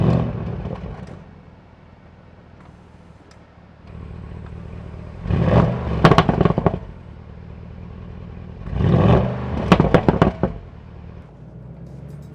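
Bentley Continental GT Coupe with a twin-turbo V8 driving through suburban streets, engine surging twice in revving bursts with low rumble and clatter between quieter cruising stretches, no talk.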